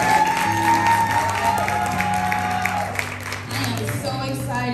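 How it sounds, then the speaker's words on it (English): Church congregation applauding and cheering at a youth Sunday worship service as a young singer comes up, a steady wash of clapping and crowd noise under sustained organ-like tones, fairly loud throughout. "let's give him a clap"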